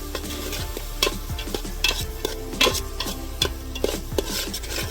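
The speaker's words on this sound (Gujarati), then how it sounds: "હા મિક્સ કરી દો જીગા ભાઈ." Maggi noodles with salt, chili and turmeric stirred in a pan cooked outdoors in a farm field, a utensil clanking and scraping in repeated strokes over a steady sizzle, close and clear with no talk.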